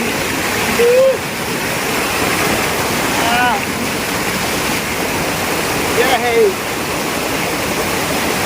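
Loud, continuous roar of rushing water from Tukuran Falls, San Teodoro, Oriental Mindoro, with a voice calling out briefly a few times over the constant torrent.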